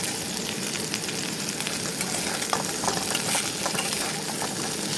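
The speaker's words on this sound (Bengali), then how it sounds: "এটাকেও আমি হালকা করে ভেজে নেবো" Potato pieces and soybean chunks frying in a pan, with a loud steady sizzle and repeated scraping stir strokes close by.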